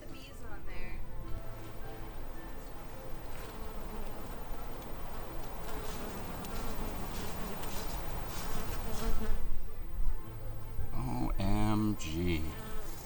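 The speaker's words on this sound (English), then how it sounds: "look at the bees on there" Bees buzz busily around a fruit tree in a botanical garden, a dense, wavering drone close by, with people talking excitedly over it throughout.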